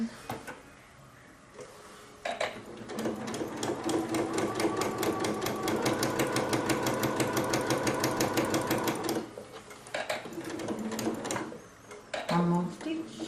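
A Janome MC15000/MC12000 embroidery sewing machine stitches fabric for a mug rug, a fast steady mechanical chatter running loud through the middle with brief pauses as the work is turned, and a voice talks quietly over the start and end.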